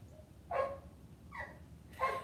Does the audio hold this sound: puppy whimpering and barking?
yes